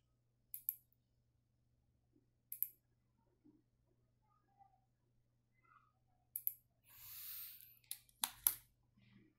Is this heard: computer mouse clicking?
yes